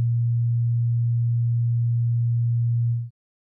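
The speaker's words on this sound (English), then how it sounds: "The first instrument is a simple sine wave, which is pretty bland." A synthesized sine wave generated by a Csound instrument plays as a single steady, pure low tone for about three seconds before stopping abruptly into silence.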